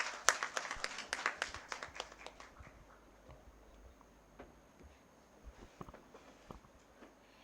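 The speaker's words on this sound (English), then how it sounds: "Encourage them with a huge round of applause." An audience at a school English debate competition claps for a team taking the stage, a brief burst of scattered clapping that fades quickly into sparse taps and light room noise.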